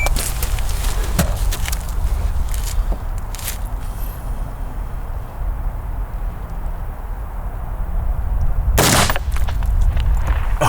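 Handgun shots ring out during a 12 round shooting drill, a few sharp cracks early and one loud report near the end, over a constant outdoor wind-like rumble.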